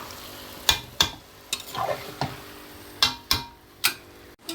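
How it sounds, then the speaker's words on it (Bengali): Chicken meat cooking in a pan over low gas is stirred with a spatula, producing a series of sharp scraping clacks at irregular intervals over a soft background sizzle. "মাঝে মাঝে একটু নেড়ে দিতে হবে না দিলে তো লেগে যাবে মাংসটা ওই একটু নাড়াচাড়া দিয়ে নিচ্ছি"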